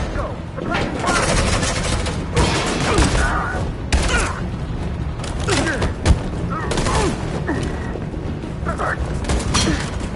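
Bursts of rapid gunfire in the Detroit: Become Human video game, loud volleys and single shots crackling in a busy, chaotic scene, with shouting voices mixed in throughout.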